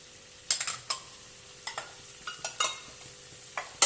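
Spiced chicken stirred in a hot pan while cooking for chicken BBQ rice, giving scattered scraping clicks and light sizzle bursts close up, with a low steady hum underneath and no voices.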